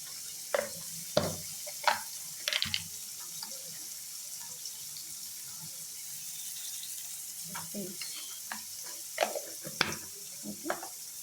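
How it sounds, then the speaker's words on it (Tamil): Faint, steady sizzling of onions sautéing in a pan for eggplant chutney, broken by occasional scraping and tapping of a utensil stirring. "நல்லா வதக்கிடுங்க"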